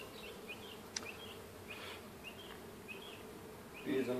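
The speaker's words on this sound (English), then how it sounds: "Bees in my face." Honeybees buzz in a steady, close drone during a hive inspection, with individual insects whining past now and then and a brief louder flutter at the end.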